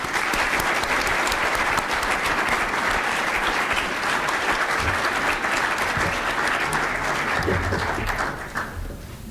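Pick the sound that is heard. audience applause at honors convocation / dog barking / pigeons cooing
audience applause at honors convocation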